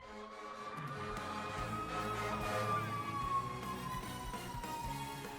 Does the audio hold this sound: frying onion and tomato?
no